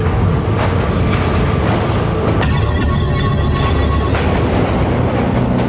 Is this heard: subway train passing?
yes